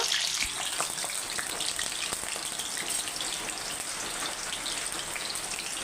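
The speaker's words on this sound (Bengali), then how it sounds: "এখন আমি আলু আর শালগমটা ভেজে নেব একসাথে ভালোভাবে লাল লাল করে ভেজে নেব" Potatoes and turnip sizzling in hot oil in a pan, a steady, loud, crackling hiss that continues without a break, with no talking.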